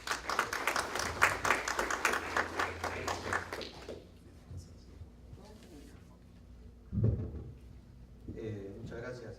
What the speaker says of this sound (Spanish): a quien vamos a recibir con un fuerte aplauso